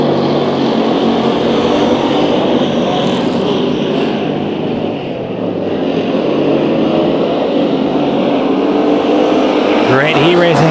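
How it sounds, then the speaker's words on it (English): Hobby stock race cars roar around the dirt oval at Bakersfield Speedway, a loud continuous engine drone with passing cars rising and falling, and a race announcer talking over the racket throughout. "Great heat racing action continues on with his hobby stock."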